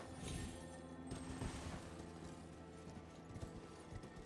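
Horse hooves clop steadily on the ground in the video game Elden Ring, a quiet, muffled galloping rhythm running throughout under a dense wash of background game noise.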